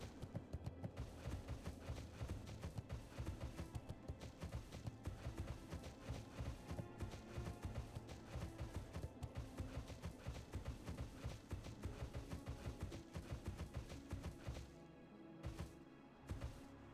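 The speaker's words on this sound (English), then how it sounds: "Listen to the sound of the horse, right? When you're running through the snow compared to when you're running on the road." A horse gallops through snow in the World of Warcraft region Winterspring, producing a steady, rapid stream of muffled hoofbeats that is faint and continuous and runs over a soft background.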